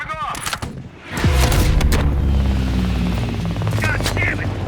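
Heavy gunfire in Call of Duty: Black Ops Cold War: sharp cracks and bursts, then a loud rumbling helicopter rotor and engine roar that builds and holds under scattered shots and voices.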